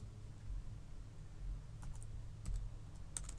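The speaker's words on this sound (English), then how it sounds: "So I'm going to start typing a character. I'm going to type A." Quiet computer keyboard typing, with a handful of soft, irregular key clicks and taps spaced out over a faint background hum.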